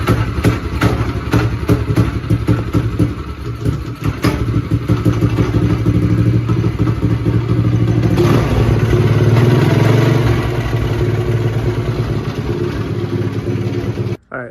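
A small 420cc go-kart engine, primed with starting fluid, sputters and chugs in an uneven, rattling rhythm, briefly catching and revving louder before running roughly and cutting out at the end.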